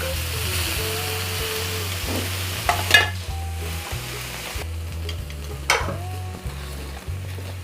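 Potatoes fry in a pan in a steady, moderate sizzle, with a few scrapes and clinks of a utensil spreading them out and a low hum underneath, no talk.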